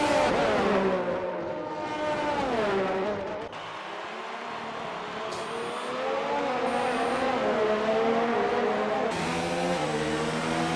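Race cars overtake on a Japanese circuit, their engines a loud, sustained high-pitched whine that rises and falls through gear changes as one car closes in and passes.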